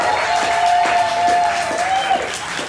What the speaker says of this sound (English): If you think Kamari did the best as a seismologist, Olive Garden, J.K. Rowling tweeting again, cheer and applaud.